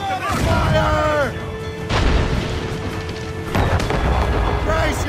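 Heavy cannon booms from a ship's broadside in Assassin's Creed Rogue, several deep blasts spaced a second or so apart with rumbling crashes, under shouted voices and swelling music.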